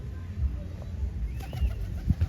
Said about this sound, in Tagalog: Wild pigeon pero feral ang tawag nila.